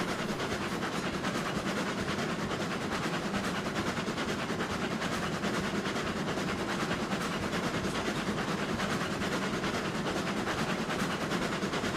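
Two locomotives haul ten loads uphill at 18 miles an hour in a train video game, a constant even rail rumble and clatter with no breaks and no voices.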